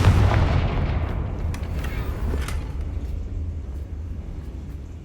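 A Confringo blasting spell set off in a game, a loud booming blast that rolls into a deep, sustained rumble, with a few sharper crackling bursts scattered over the fading roar.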